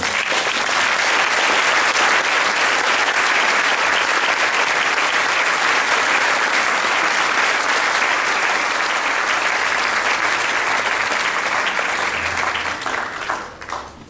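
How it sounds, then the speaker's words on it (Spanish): Sustained audience applause fills a university humanities hall at a lecture, loud and dense for the whole stretch before tapering off at the very end, with no talking over it. "Un aplauso para Turing también."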